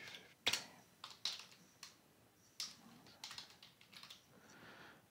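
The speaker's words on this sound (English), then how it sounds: "type in my examination" Keystrokes on a computer keyboard while an examination is entered into a medical records program, a run of separate clicks at an uneven pace, close and fairly quiet, with no voices.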